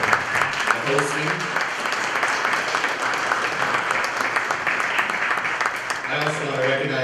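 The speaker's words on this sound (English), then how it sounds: "can we give Charles and Amy a round of applause for the meal and the hosting?" Dinner audience at an annual association meeting breaks into sustained applause, a dense wash of many hands clapping in a large room, with a voice speaking at the start and again as the clapping fades.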